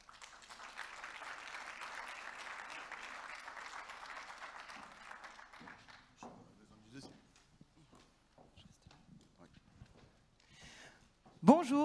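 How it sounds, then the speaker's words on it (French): Audience applause greets a student team called Osids from Moulins-les-Messes at a French environmental solutions challenge event, a steady clapping wash lasting about five seconds before fading into scattered claps and a burst of noise at the end. "Et on peut les applaudir."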